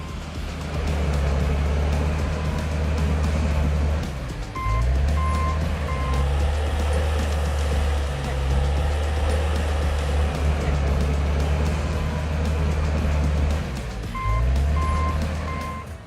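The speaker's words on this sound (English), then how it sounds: "using a John Deere 850L bulldozer. This powerful machine easily pushes and rakes plants," A John Deere 850L bulldozer clears land for a future industrial park. Its engine drones steadily and loudly throughout, and two short bursts of high reversing beeps sound near the middle and the end.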